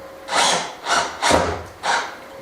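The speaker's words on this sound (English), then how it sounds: "there's not enough torque on my drill, so I'll have to turn it into drill mode" A cordless drill set to drill mode drives screws into wooden farmhouse furniture in four short whirring bursts separated by brief pauses, loud and close.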